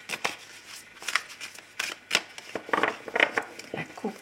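Deck of tarot cards being cut and handled, with a run of close, crisp papery flicks and soft slaps in an irregular rhythm and brief quiet gaps between them.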